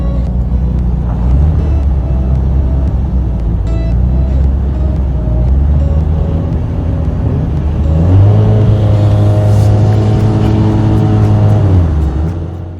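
A classic Formula Ford race car engine at a Brands Hatch race start, a loud, steady engine drone held at constant revs that swells into rising harmonics as the car launches and pulls away, with other cars' engines around it.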